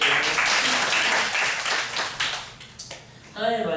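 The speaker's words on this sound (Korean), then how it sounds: "다시 한번 박수 주세요." A church congregation at a Sunday afternoon worship service applauds loudly and steadily, the clapping thinning out before a voice begins speaking near the end.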